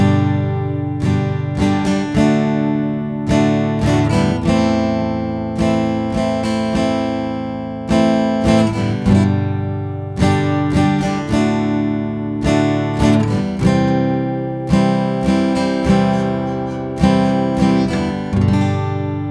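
Acoustic guitar strums a song's chords in a steady rhythmic pattern of down and up strokes, clear and close, with no voice over it.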